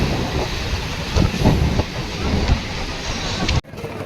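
Train at Sealdah railway station in Kolkata, a steady rumble with wheel clatter and brief clanks close by, ending in a sudden drop about three and a half seconds in.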